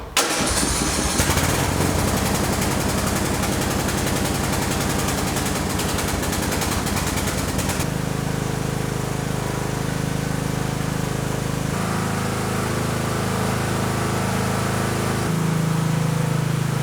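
A Craftsman 917 snowblower engine cranks and then starts, settling into a loud, steady running roar close by that shifts pitch a few times as it keeps running, with no speech.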